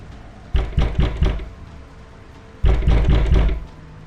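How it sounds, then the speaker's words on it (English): Knuckles rap on the door of an old, run-down house in two close bursts of about four firm knocks each, separated by a pause, loud and near with no voices. "He knocked on the door,"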